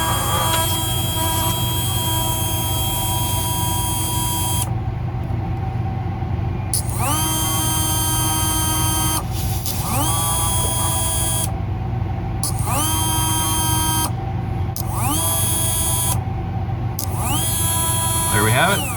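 Arctic Cat 400 4x4 front drive actuator motor running after repair, giving a whining electric motor note that starts and stops in repeated bursts roughly every two seconds over a steady background hum.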